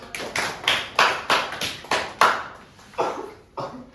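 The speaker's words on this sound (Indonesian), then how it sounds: "Tepuk tangan dulu." A classroom group claps in a steady rhythmic pattern, about ten sharp beats, fairly close and without talk.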